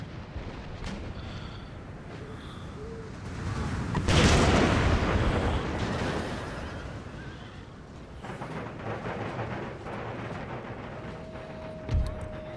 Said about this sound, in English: Cannon shot went very high.